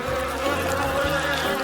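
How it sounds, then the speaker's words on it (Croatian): Bees swarm around a jar of honey, a close, continuous buzzing drone with shifting pitch as several insects circle nearby. "Jao, donela sam toliko pčela, nisam primetila."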